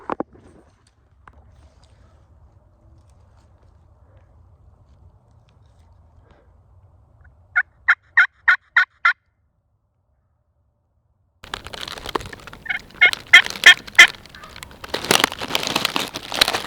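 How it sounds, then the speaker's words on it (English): A wild turkey in Wisconsin woods during a spring hunt lets out a short, rapid rattling gobble from some distance after a long stretch of near silence, followed by loud crashing, rustling movement close to the microphone. "We got one gobbling at every noise we make, and he's coming"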